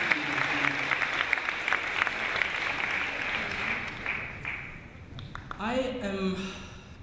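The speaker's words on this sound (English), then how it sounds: "Give them a huge round of applause along with the whole faculty who have made this incredible day happen today" An audience at a 2016 graduation ceremony applauds the faculty with dense, sustained clapping that fades after about five seconds before a voice starts speaking.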